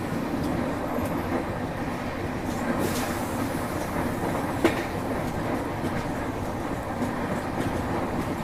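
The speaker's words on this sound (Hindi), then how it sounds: "इतने सारे कोची, इतना सारा वजन है, लोकोमोटिव 140 पे जाए, ज़बरदस्त की बात है।" Indian passenger train hauled by a WAP-7 electric locomotive running at speed, a loud steady rumble and rattle of carriages with faint rhythmic wheel clatter and a brief squeal, heard close with no voices.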